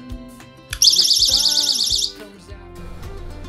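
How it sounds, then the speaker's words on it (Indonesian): A personal safety alarm on a Japanese school backpack, pulled to sound, lets out a loud, piercing warbling shriek for just over a second, then cuts off, leaving faint background noise and voices. "mereka tahu bahwa itu adalah alarm untuk meminta pertolongan"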